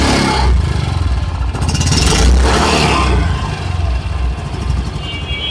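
A 2025 Yamaha Ray ZR hybrid 125 scooter engine runs close by, loud and steady with a low throb and slight rises in revs, no talking over it.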